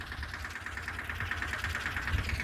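A diesel engine idles nearby with a steady, low knocking chug that keeps an even rhythm throughout, heard alone without voices.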